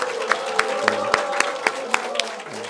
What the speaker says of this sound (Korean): 청소년부 우리 찬양대 친구들 수고했다고 박수로 한번 격려하겠습니다